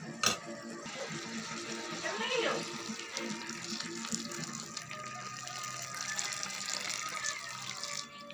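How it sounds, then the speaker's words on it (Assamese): Hot water poured into a cooking pot of fish and greens curry, a steady broadband gushing pour running nearly continuously at close range, with brief clatter at the start. "ইয়াত এতিয়া গৰম পানী দি দিম।"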